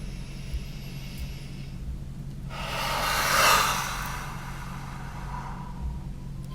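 One slow, deep breath during a guided relaxation exercise, rising to an audible airy exhale that swells and fades over a few seconds against a quiet background.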